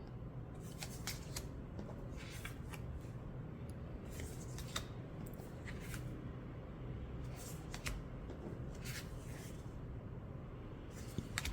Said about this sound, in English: I zoomed out of it to show you how this shuffles